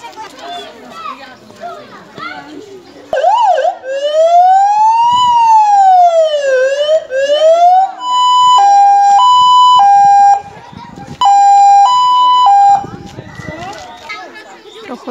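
A police car siren, sounded by children during a police visit to a school, wails loudly in rising and falling sweeps and then switches to a fast two-tone yelp in bursts. Children's voices chatter before and after.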